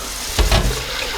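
Water running from a tap for rinsing, a short close splash and gush of flow lasting under a second against a quiet background.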